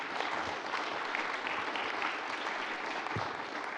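Faint, distant audience applause at a community storytelling event, a steady wash of clapping throughout with no voices over it.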